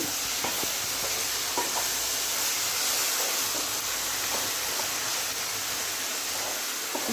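Radish curry sautés in a pan with a continuous soft sizzle and frying hiss, close and steady, with faint occasional stirring scrapes underneath and no talking.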